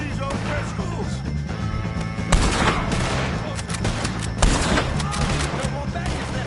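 Rapid gunfire in the video game Red Dead Redemption 2 during a shootout with O'Driscolls, loud repeated shots with two heavier blasts, mixed with shouting voices.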